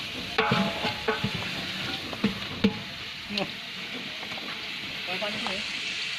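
Meat for bhuna khichuri fries in a pot under a steady sizzle while a spoon scrapes and knocks against the sides in irregular strokes, with occasional voices in the background.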